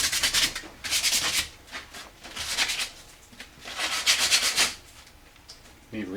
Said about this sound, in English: The final sanding.